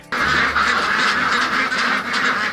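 A flock of farm ducks quacks together in the morning, a dense, loud, continuous chorus of overlapping quacks with no voices.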